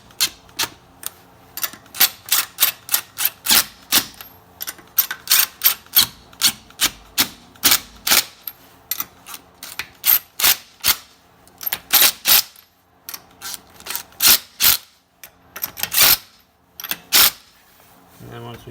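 Wrench tightening the lug or brake bolts on a car during a brake pad change, heard as loud, rapid clicking and ratcheting bursts that come in short runs over about nineteen seconds, with gaps between them.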